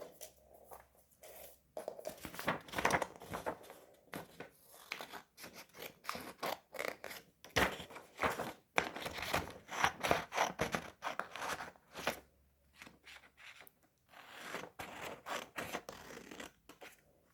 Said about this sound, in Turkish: Şimdi bunları kesip şeklimizi, artı şeklimizi oluşturacağız.